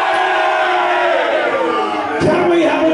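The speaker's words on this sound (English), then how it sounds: "can we have a cheer for Portsmouth?" A large football stadium crowd at a Sunderland versus Portsmouth match roars a loud, sustained cheer for Portsmouth, a dense mass of voices and shouts that swells again near the end.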